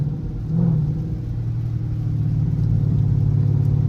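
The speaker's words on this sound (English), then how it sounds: "It's in sport mode, so it's kind of staying at a hard RPM for throttle sensitivity" Chrysler 300C SRT in sport mode holding a high idle, a steady deep engine rumble heard from inside the car with a slight rise in revs, continuous and fairly loud.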